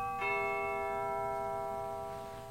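A single bell strikes once and leaves a clear ringing tone that fades slowly over about two seconds, with no voices.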